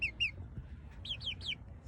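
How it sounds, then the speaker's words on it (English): Baby chickens in a garden give repeated high, bright peeping chirps, a pair at first and then a quick run of three, fairly close over a quiet outdoor background. "Here's my chickens. They're still babies."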